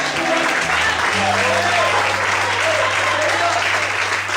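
Congregation applauding at an evening church service, dense steady clapping filling the room throughout, with a sustained organ or keyboard tone beneath.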